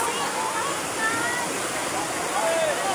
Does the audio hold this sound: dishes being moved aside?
no